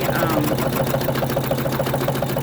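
Embroidery machine stitching a 3D star ornament, a fast, steady, continuous needle rattle close up with a low hum beneath, unbroken throughout.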